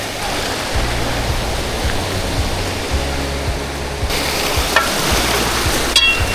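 River water rushes steadily at Harridge Falls on the Weld River, a constant broadband roar with no breaks, heard up close, with faint knocks and small splashes near the end.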